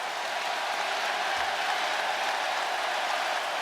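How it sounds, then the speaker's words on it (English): A basketball arena crowd roars and applauds in a sustained, even wash of cheering and clapping that fills the whole stretch, loud and continuous with no pauses. "sits down, gets a huge ovation"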